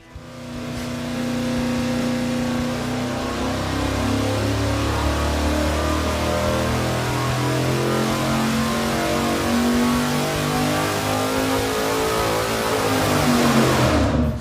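An engine running on a dyno, its carburetor on a dropped base with no air filter, roars steadily and loud through a sustained high-rpm pull, the pitch rising toward the end before cutting off. No voices.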